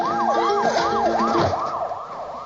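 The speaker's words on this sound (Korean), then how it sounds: "때마침 순찰차의 사이렌 소리가 들립니다." A police car siren wails, sweeping up and down in rapid, regular cycles, moderately loud, with faint road noise beneath.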